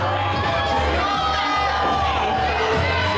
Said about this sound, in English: A pissed off colonial crowd is giving it to him.